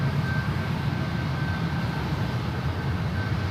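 Airliners landing on runway 28 at San Francisco International Airport, heard as a steady, broad low roar of jet engines and rushing air that holds constant throughout with no voices.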